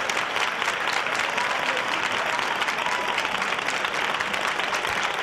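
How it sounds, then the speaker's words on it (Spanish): Applause played on a radio programme, a dense, even roar of clapping and crowd noise, loud and unbroken from start to finish. "nuestro gran aplauso y nuestro abrazo será en concreto para los Hugos y Demetrios"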